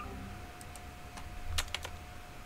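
Quiet clicks of a computer keyboard during play of the horror game Apeirophobia, a few scattered keystrokes followed by a quick cluster, close and faint, with no voices.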